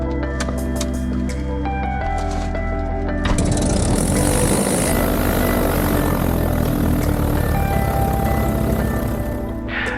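A Cessna 172 propeller engine running close by on an apron on a cloudy day, a loud steady drone with a deep harmonic hum that rises in pitch and intensity a few seconds in.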